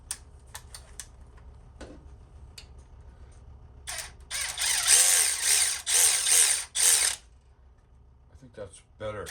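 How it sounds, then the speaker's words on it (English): A hand ratchet runs bolts into the cam plate of a Harley-Davidson Twin Cam 96 engine: sparse clicks at first, then a loud, rapid burst of ratcheting clatter in the middle before it goes quiet. "I'm gonna run them bolts in there. It's on my ratchet."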